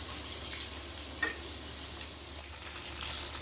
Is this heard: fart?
no